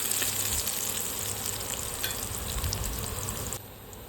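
Chili-garlic thecha roasts in a pan over a low flame, giving a steady, soft sizzle and crackle with occasional stirring scrapes, unbroken by speech, easing slightly quieter toward the end.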